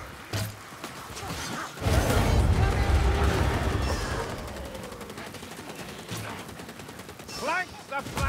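In Warhammer Vermintide, a Ratling gunner unleashes a sustained burst of rapid gunfire, loud and close, with voices talking over the shooting and a few whooshing sounds toward the end.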